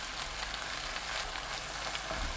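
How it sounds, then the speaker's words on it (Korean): Steady, dense sizzling of pork hind leg meat stir-frying over high heat in a hot pan for pork bulgogi, a continuous crackling hiss with no voices, fairly quiet and close. "팬이 달궈지고 지글지글 소리 나기 시작하면 그때부터 3분 볶아주세요"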